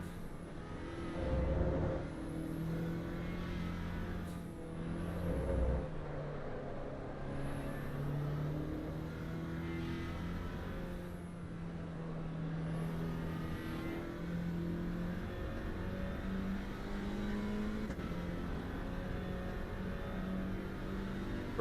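Alpine A110 engine in the racing game Assetto Corsa EVO at Suzuka, a steady, loud engine drone climbing and shifting pitch through the gears, with brief louder bursts early on and no talking.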